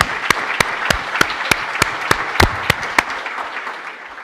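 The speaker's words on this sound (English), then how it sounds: "and we applaud you all." Applause from a crowd, a dense patter of clapping punctuated by sharp, evenly spaced louder claps, fading slightly toward the end.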